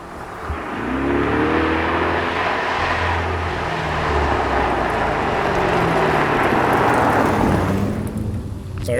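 A Corvette speeding over a hilltop zigzag chicane, its engine rising and sustained as it passes, loud and rumbling with a broad road roar for several seconds before easing off.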